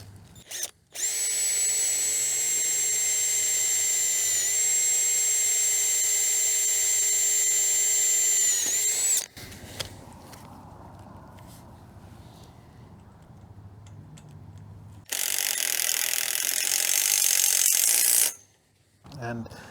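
A power drill bores a pilot hole in steel with a loud, steady high whine for about eight seconds. After a quieter pause with faint handling noise, the drill runs hard again for about three seconds.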